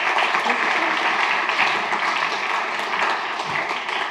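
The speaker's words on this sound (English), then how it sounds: "So give a big applause to Dina and enjoy your talk" An audience applauds a speaker at a hacker camp talk, a steady dense wash of many hands clapping close and loud for the full stretch, with no voices over it.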